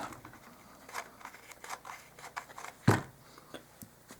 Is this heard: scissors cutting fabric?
yes